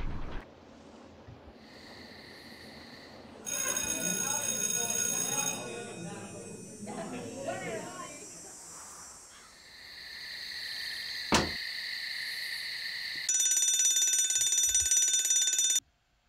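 An electronic alarm rings in the Nancy Drew game Shadow at the Water's Edge, loud steady tonal bursts that come on, pause and return, with a voice speaking in between and a final sustained ring before stopping.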